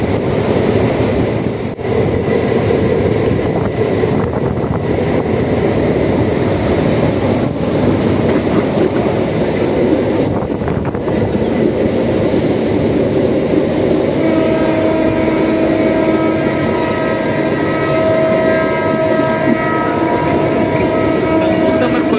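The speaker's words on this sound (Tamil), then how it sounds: "ரயில் நிலையத்துக்கு நுழைஞ்சிட்டோம். இது ஒரு முக்கியமான ரயில் நிலையம்." A train rumbles steadily with clattering wheels as it pulls into a railway station, loud and close, with a sustained horn-like tone toward the end.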